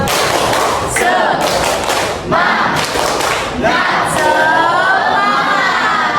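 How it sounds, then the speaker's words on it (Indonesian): A school class performs a rhythmic clapping chant, children's voices shouting in unison in bursts between sharp group claps, loud and close in a classroom. "Kita tepuk semangat. Tepuk semangat."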